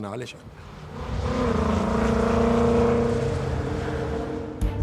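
A loud, close Mercedes-Benz 300 SLR racing engine with a short, nearly unmuffled exhaust roars and holds a high rev near 8,000 rpm for several seconds before easing off, with speech around it.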